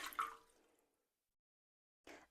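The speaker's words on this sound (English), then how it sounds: "I just use water straight from my filter, which is a cold water basically, and you just pour that in first" Cold filtered water poured into a bread machine canister gives a short liquid splash and trickle that fades out, followed after a pause by a brief second burst of sound.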